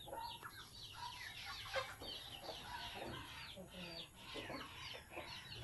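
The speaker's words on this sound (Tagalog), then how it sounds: "Ito yung manukan ng" Chickens cluck in a backyard barnyard coop, a busy scatter of soft clucks and calls, fairly faint and distant, with occasional quiet talk.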